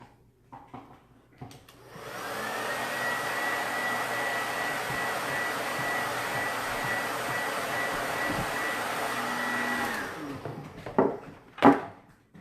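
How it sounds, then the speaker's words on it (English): A blow dryer whirs on for about eight seconds, a steady close airy hum, then shuts off, followed by a few handling clunks. "Let me hit it with a blow dryer real quick."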